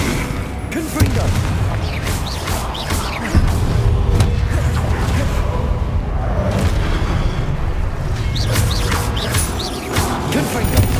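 Confringo fire spells burst in Hogwarts Legacy combat, producing loud, repeated booming blasts close up amid a continuous clatter of battle effects and voices.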